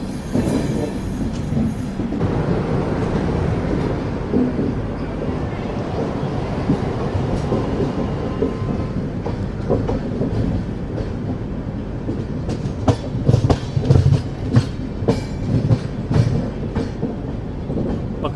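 The Prashanti Express passenger train moves along the track, a steady loud rumble with rhythmic clickety-clack of wheels and occasional squeals, heard from inside a carriage over about eighteen seconds.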